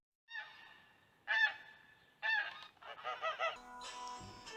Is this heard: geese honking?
yes